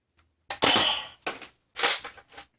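Two bursts of harsh, crackling electronic blaster noise from a Nerf Star Wars Amban Phase-Pulse toy blaster, each a loud zap followed by a shorter sputter, separated by brief silence.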